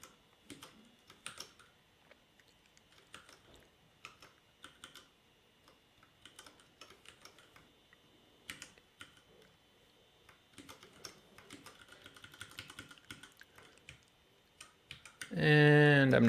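Typing on a computer keyboard while writing code, with bursts of quick soft key clicks in irregular runs and pauses, close and quiet, ending with a brief louder sound.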